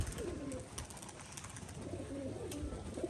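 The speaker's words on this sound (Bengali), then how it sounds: "বিস্কুট কালারের মাদি পায়রা দেখুন, এর ডানা কাটা আছে।" Domestic pigeons in a loft give low, rolling coos in a steady run, close by over a soft background hiss.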